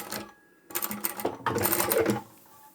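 A sewing machine back stitches through layered fabric on a small folding card wallet. It runs in close, rapid bursts: a short run, a brief pause, then a longer steady stretch of stitching.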